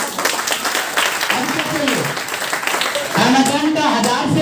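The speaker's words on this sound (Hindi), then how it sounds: "मारो ताली" An audience claps and applauds in a steady patter, with voices talking and calling out over the clapping throughout.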